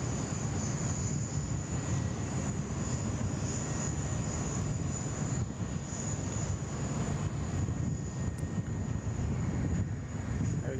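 Qantas Airbus A330 arriving at Sydney Airport, a steady broadband jet engine roar with a faint high whine, continuous and fairly close, with wind buffeting the microphone and no talk.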